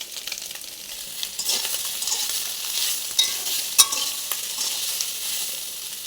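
Soybean chunks fry in oil with salt while being stirred, giving a continuous crackling sizzle broken by a few sharper scrapes and clicks from the spoon against the pan.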